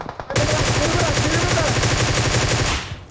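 Sustained automatic gunfire in the mobile battle-royale game PUBG Mobile, a rapid unbroken burst of shots starting abruptly after a brief quiet moment and running loud and close for nearly three seconds.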